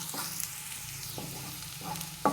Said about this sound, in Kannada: ಇಲ್ಲಿ ಈರುಳ್ಳಿ ಸ್ವಲ್ಪ ಫ್ರೈ ಆಗಬೇಕು, ಕಲರ್ ಸ್ವಲ್ಪ ಚೇಂಜ್ ಆಗಬೇಕು.